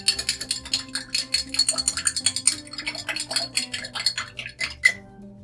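Rhythmic metallic clinking and scraping as a cocktail with sweetened condensed milk is mixed, steady close strokes for several seconds that taper off, with no talk.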